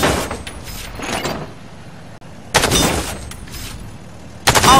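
Rapid bursts of gunfire strike training targets in the shooter game Warface, coming in three separate volleys with short quiet gaps between them, loud and close.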